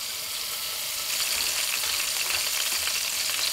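Bird's eye chilies and minced garlic stir-fried in fresh oil in a wok, a steady, close sizzling hiss that swells noticeably about a second in and keeps going without talk.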